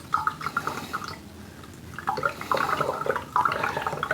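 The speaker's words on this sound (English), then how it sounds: "So just finish filling it full of water." Tap water splashes and gurgles into a storage barrel being filled, running unevenly and close, with no talk.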